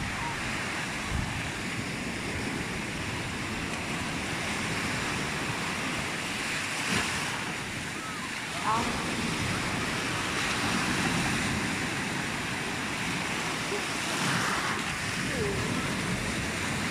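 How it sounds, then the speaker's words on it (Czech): Big ocean waves breaking continuously nearby, a broad rolling surf roar with wind buffeting the microphone, steady and loud throughout with a few swells building and crashing. "Velké vlny."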